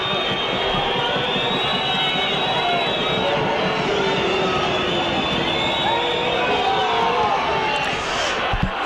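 A rugby league crowd at a Wakefield versus Hull match whistles during a kick, with many shrill whistles overlapping a dense, continuous crowd roar and a voice faintly beneath.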